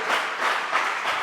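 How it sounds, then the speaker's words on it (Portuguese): A church congregation applauds with dense, steady clapping that swells slightly in waves, loud and close throughout the short stretch, with no voices on top. "dá um aplauso"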